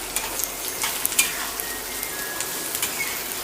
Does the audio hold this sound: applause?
no